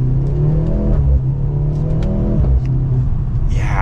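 A 2023 Mercedes-Benz C43 AMG 4MATIC accelerating in Super Sport mode, heard from inside as a loud, steady engine rumble and whir that rises through the gears.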